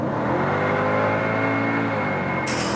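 A 2006 Mercedes C55 AMG estate with a V8 pulls hard from 100 km/h, its engine roaring loud and steady as the pitch climbs through the gears, with no talking over it.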